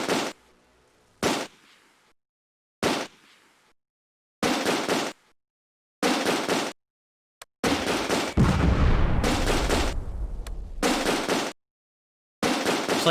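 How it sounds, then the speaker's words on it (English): An 88 gun fires in the Close Combat: A Bridge Too Far war video game, with sharp, loud shots in separated bursts and a longer rumbling blast, broken by moments of silence. "I think I need to tell the 88 to manually fire on these fools"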